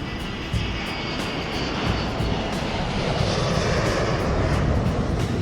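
Lockheed L-1011 Stargazer jet airliner roaring down the runway on its takeoff roll at max power, a loud, steady broadband engine rush that swells slightly and holds throughout, with no talk.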